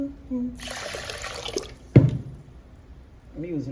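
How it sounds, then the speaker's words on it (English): A kitchen tap runs for about a second and a half as water is measured into a pot for cooking white rice, with a splash and clunk as it stops and quiet clatter after. "Let me get some water."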